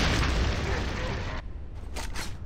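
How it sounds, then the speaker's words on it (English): A video game grenade explodes up close as a heavy deep boom, followed by a rumbling decay and some scattered crackles. "Grenade going in!"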